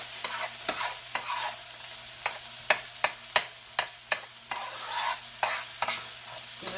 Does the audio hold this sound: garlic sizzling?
yes